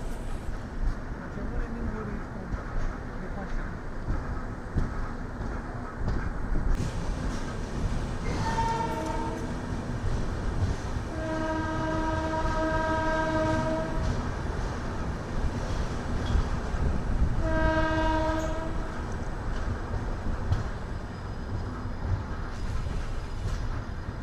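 Nanded–Tirupati special train rolling through Savalyapuram junction without stopping, a loud steady rumble of wheels on rails throughout with two long blasts of the horn partway through.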